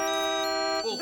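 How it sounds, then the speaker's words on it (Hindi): A mobile phone rings inside a car with a sustained electronic tone that holds for most of a second and then cuts off abruptly, loud and close. "फोन बज रहा है आपका तारक।"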